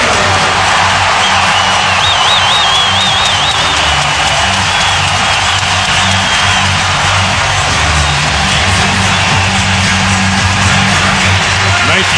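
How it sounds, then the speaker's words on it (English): Basketball arena crowd cheering and applauding as Karolinko checks into a 2010 Western Conference semifinal playoff game, a sustained loud roar beneath a commentator's voice. "listen to the crowd as Karolinko is buzzed in"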